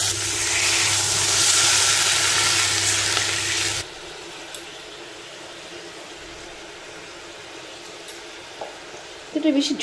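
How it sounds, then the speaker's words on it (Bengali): Ginger, onion and garlic paste for methi chicken hits hot oil with a loud, broadband sizzle for about four seconds, then settles into a faint, steady low fry with a few small clinks near the end. "দিলাম আদা পেঁয়াজ রসুনের পেস্ট"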